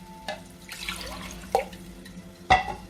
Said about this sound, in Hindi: इसी कप को साफ करने के लिए थोड़ा सा पानी और डाल लेते हैं।